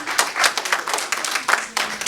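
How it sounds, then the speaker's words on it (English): A church audience gives a warm round of applause for a family and musicians, with dense, continuous clapping that swells and dips over two seconds, close and fairly loud. "Give yourselves another warm round of applause again."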